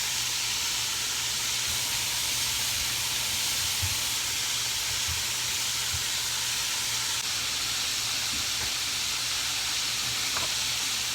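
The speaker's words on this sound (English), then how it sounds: "I can hear that my sizzle has kind of gone down a little bit" Cubed deer steak sizzles steadily in a hot pan, a constant close hiss with faint occasional pops and clicks, no talking.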